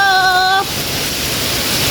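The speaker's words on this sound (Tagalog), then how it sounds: "Oh, lakas ng ulan." Heavy rain pours steadily in Singapore as a dense, even hiss close by, with a brief tonal whine at the start before the downpour continues alone.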